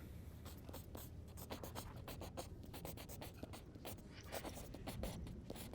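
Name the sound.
writing on paper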